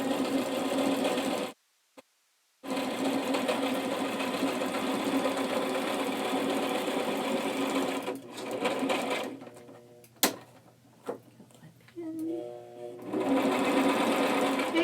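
A sewing machine stitches a seam on a zippered pouch in close, steady runs, pausing briefly, then slowing into intermittent, halting stitches near the end.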